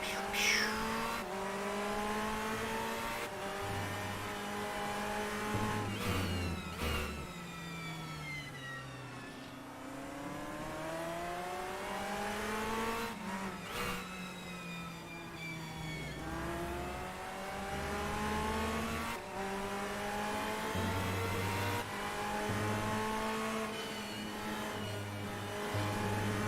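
Race car engines from a Portimao racing video game whine continuously, pitch climbing and dropping through repeated gear changes, with low thuds at intervals, steady and loud for the whole stretch.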